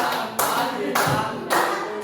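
A group plays the tepuk 7 clapping rhythm game, sharp unison hand claps landing in a quick regular beat, loud and close.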